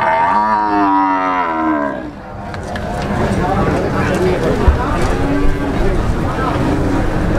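At the Jetis cattle market in Ponorogo, East Java, where half-Brahman cows are sold, a cow lets out a long, loud, close moo, followed by busy market clatter and people talking nearby.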